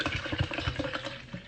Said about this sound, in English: Then I'll just add water in.